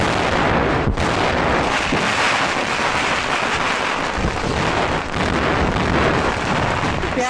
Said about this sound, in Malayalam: പേടിക്കണ്ട, മുതലാളി വെടിവെച്ചതാണ്.